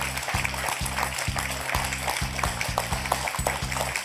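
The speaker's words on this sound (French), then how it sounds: "On peut applaudir Françoise, 2 points." Studio audience of a French TV quiz game applauds a contestant, dense steady clapping throughout over a rhythmic low musical beat.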